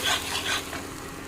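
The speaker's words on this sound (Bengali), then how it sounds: "শুকনো লঙ্কার গুঁড়ো হলুদ গুঁড়ো ভালো করে কষিয়ে নেব মশলাটাকে" Ground spices with dried chilli powder and turmeric powder frying in hot oil and being stirred, a close, steady sizzle with scraping strokes throughout.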